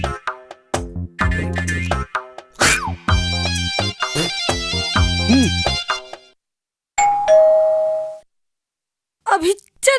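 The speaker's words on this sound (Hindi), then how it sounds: "कसरे ते काबर घेरी भेरी घंटी बजाक लुका जाथस?" A doorbell rings with a two-tone ding-dong in a comedy scene from a Chhattisgarhi film. It is loud and close and rings once after a stretch of music, followed by silence and a brief voice.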